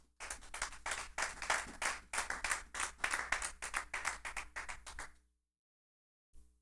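A church congregation clapping and applauding during a French-language sermon, brisk dense clapping for about five seconds that stops abruptly, followed by near silence and a brief faint sound.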